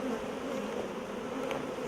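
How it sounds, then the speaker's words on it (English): A dense swarm of honeybees drones during a beehive inspection, a steady close buzzing with no talk. "Yeah, that's a lot of bees."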